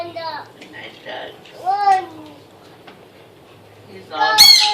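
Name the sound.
caged bird clucking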